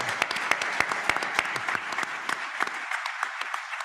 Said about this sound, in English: Can we just give a round of applause to our panelists?